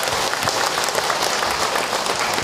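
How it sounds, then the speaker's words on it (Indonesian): An audience at an Islamic religious lecture bursts into dense, steady applause for the mothers present, a close, continuous wash of many hands clapping with no pause. "Tepuk tangan buat semua bunda yang ada di sini."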